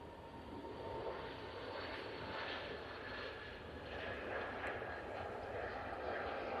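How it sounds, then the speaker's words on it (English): EasyJet Airbus A320neo on its takeoff roll at Manchester Airport bound for Belfast, a moderate, steady jet rumble from some distance, faintly wavering, with a voice intermittently over it. "So this Easyjet is off to Belfast and we are rolling with it."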